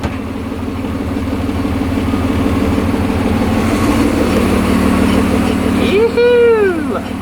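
A BMW-engined Toyota Corolla drift car running loud and steady in gear with its rear wheels spinning, a constant engine drone near at hand and a brief rising-and-falling whine near the end.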